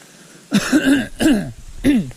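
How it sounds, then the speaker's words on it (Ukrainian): Three short, throaty allergy coughs in close succession, loud and close, with brief gaps between them. "часто кашлю можете помітити, це алергія."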